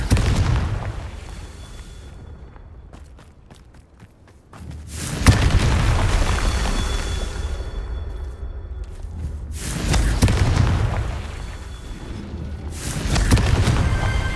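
Spell explosions from Confringo blasts in the video game Hogwarts Legacy: three loud, booming bursts, each with a long rumbling tail, separated by a quieter stretch of faint clicks and crackles, with no talking.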